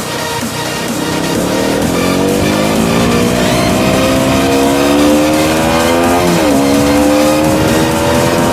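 A KTM Duke 125 motorcycle revving hard and close, its loud engine tone climbing steadily in pitch, dropping briefly at a gear change, then rising again.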